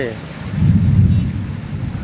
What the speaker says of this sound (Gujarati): વરસાદને કારણે રોડ ઉપર નદીઓ જેવો માહોલ સર્જાણો છે